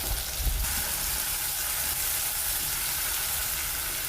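Tomato sauce frying in a pan for homemade chow mein gives off a steady, loud, close sizzle with a brief stir near the start and no talk.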